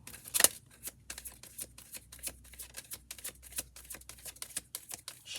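Tarot cards are shuffled by hand in a quick series of soft riffling and tapping bursts, close and fairly quiet, with one sharper snap near the start.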